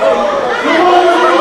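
A wrestling crowd at a Next Up Pro event chatters and cheers for Gino Medina, a dense, loud murmur of many voices throughout.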